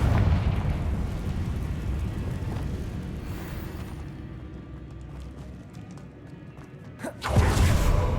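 A Confringo fire spell in Hogwarts Legacy builds as a sustained fiery rumble and ends in a loud, sharp explosive burst near the end.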